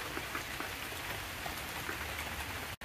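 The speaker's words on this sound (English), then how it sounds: "I'm getting rained on" Steady rain patters densely on surfaces outdoors beside a Land Rover Discovery, a constant close hiss with no voices, cutting off abruptly at the end.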